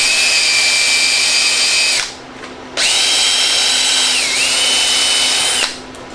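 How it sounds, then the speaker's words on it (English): A power drill bores into a wooden shutter, whining loud and close in two long runs with a short pause between, its pitch dipping briefly under load. "let the drill do the work"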